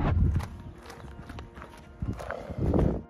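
An Oldenburg horse walks with clear clip-clop hoofbeats, an uneven series of close, crisp strikes, along with a faint snort.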